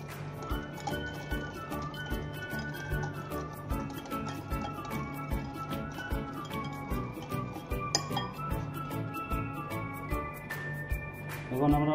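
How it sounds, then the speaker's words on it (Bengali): Oil being mixed into eggs and sugar in a bowl for a sponge cake, soft wet sloshing with light clinks of a utensil against the bowl, a steady background hum and faint music underneath. "তেলটা ডিম এবং চিনির সঙ্গে খুব ভালোভাবে মিশিয়ে নিতে হবে"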